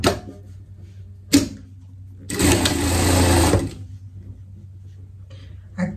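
A sewing machine stitches a seam on a pet chef costume, running in one sustained burst of about a second amid brief clicks and handling knocks in a quiet room.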